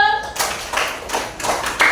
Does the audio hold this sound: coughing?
no